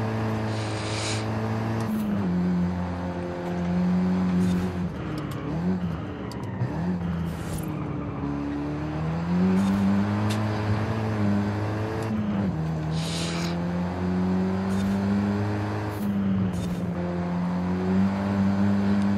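A Ford Focus ST engine in a driving video game hums steadily at high revs, its pitch rising and dipping with gear changes and throttle lifts throughout, loud and close, with no talking.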